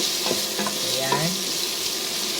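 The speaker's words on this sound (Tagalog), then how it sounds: "Halu-haluin lang natin." Arroz caldo with ginger and chicken stirred in a pot, a short spell of soft sizzling and scraping close by, a few brief tonal clinks in the first second.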